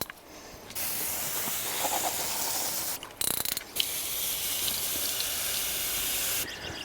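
A garden hose sprays water onto the coils of an outdoor AC unit, a loud, steady hissing rush broken by a few short pauses as the spray stops and starts.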